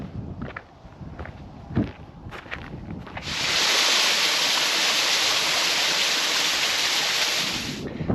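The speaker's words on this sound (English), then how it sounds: "Little bubbling waterfall behind us." A little bubbling waterfall beside Loch Sligachan on the Isle of Skye rushes in a broad, steady wash. It comes in after a few seconds of footsteps and rustling and then holds fairly close and loud.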